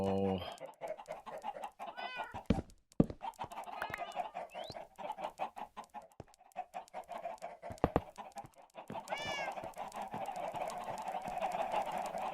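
Chickens in the game Minecraft cluck repeatedly in short bursts, fairly close and moderately loud, with a few soft clicks and taps scattered between the calls.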